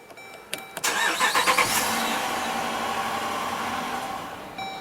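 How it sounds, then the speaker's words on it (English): A car engine with a no-start fault and brake cleaner sprayed into the intake cranks with a few rapid rhythmic chugs, catches briefly with a rising roar, then fades into a steady rumble and dies away, close and alone. "so we got start stall"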